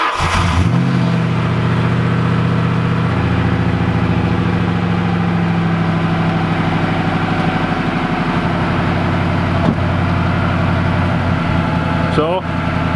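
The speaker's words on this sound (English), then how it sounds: "So it's running and evidently not leaking any fuel" A Ford Mustang GT engine cranks and catches, then settles into a loud, steady, rumbling idle close by, with a brief change in tone near the end while people talk over it.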